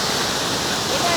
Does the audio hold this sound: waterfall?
yes